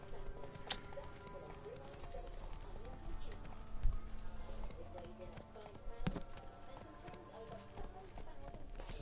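Horse hooves galloping in The Witcher 3, a steady clip-clop rhythm running throughout at moderate level, with a voice speaking over the hoofbeats.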